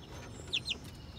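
Kelso and Sweater gamefowl, half Kelso and half Sweater brother-sister breeding stock, give two quick high chirping clucks close by against a quiet farmyard background.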